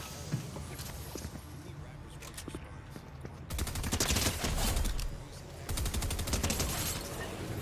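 Video-game gunfire lands headshots in rapid bursts and fusillades, loud and dense, with quick repeated shots that swell and pause.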